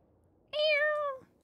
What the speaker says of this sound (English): I am hearing cat noises.